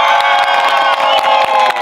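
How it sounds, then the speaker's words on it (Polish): A group of new volunteers at a training day bursts into an ovation, loud close cheering and whooping with clapping running through the whole short burst. "Owacja!"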